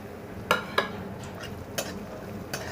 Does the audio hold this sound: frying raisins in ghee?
yes